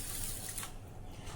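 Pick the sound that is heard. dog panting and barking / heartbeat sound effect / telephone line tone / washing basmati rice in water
washing basmati rice in water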